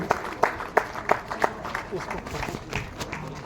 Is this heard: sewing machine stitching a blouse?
no